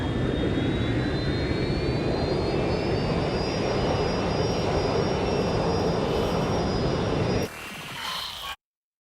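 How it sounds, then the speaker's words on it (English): A plane's jet engine in the Watch Dogs Legion video game roars steadily and loudly with a rising whine, then drops abruptly to a quieter rumble before cutting off. "Rerouting plane."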